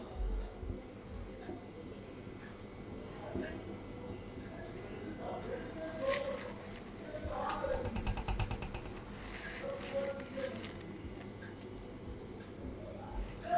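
A pen or marker writes on a board during a French lesson. The scratchy strokes are faint and continuous across several seconds, with quiet room noise around them.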